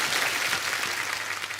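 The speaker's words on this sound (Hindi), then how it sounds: "एक बार जोरदार तालियां" Studio audience on The Kapil Sharma Show, a TV comedy program, clapping in a continuous, dense wash of applause, steady and moderately loud.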